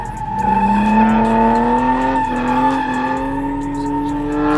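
A Lexus IS300 drifts at a speedway, its tires letting out a long, loud, sustained squeal while the engine drones underneath, close and continuous.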